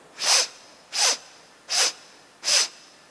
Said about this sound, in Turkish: Dört kademede nefes alacaksın.